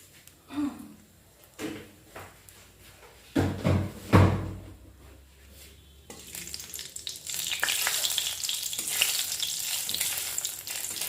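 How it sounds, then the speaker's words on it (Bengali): Dried red chilli fries in hot oil for a thin hilsa fish curry. Several loud knocks and clatters from a pan or utensil come first, then a continuous close sizzle builds and keeps going. "লঙ্কাটা ভাজা হয়ে গেছে"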